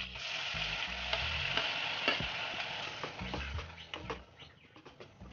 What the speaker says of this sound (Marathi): आता आपण याच्यामध्ये कांद्याची पेस्ट टाकून घेऊ।